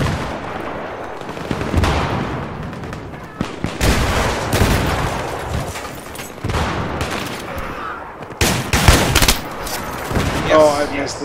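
Gunfire in the video game Battlefield 3 during a team deathmatch on Noshahr Canals, loud bursts of automatic rifle fire and single cracks in uneven clusters, with a voice speaking over parts of it.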